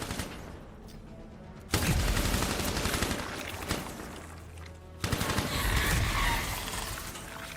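Gunfire in the video game Anthem, dense automatic bursts and fusillades with heavy booms, loud and continuous across the span with sharp onsets near the start and middle.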